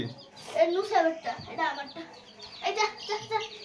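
A chicken clucks and squawks nearby in short bursts, mixed with a voice chattering over it.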